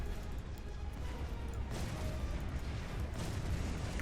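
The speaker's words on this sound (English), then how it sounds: "My living metal is actually deflecting these lance Station shots" Lance station shots striking Necron living-metal ships in a Warhammer 40,000 space battle game, a dense rumbling barrage of booms and impacts with heavier surges partway through.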